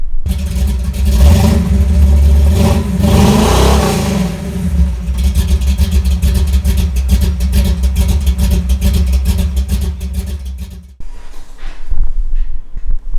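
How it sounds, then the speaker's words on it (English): Car exhaust fitted with a Flowmaster muffler, loud and close, with a deep rumbling engine rising and falling through several revs before cutting to a lower idle. "the muffler that you select isn't always going to sound the same on one vehicle versus another one that you've heard"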